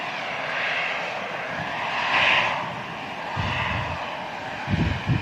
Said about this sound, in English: And Andy just picking up that Vueling A320.